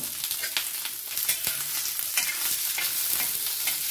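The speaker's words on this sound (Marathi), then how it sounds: "आणि कांदा ना परतून घेऊया" Onion sautés in a little oil on a hot griddle, a steady close sizzle broken by repeated scraping and stirring strokes of a spatula, with no voices.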